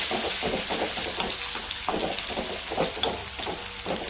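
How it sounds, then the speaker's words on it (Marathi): Onion lightly frying for Kashmiri dum aloo, giving a steady close sizzle with rhythmic stirring scrapes repeating about every half second. "आता कांदा आहे ना आपल्याला अगदी म्हणजे हलकासा भाजून घ्यायचा आहे"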